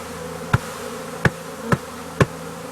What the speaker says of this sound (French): on peut voir les abeilles sont dedans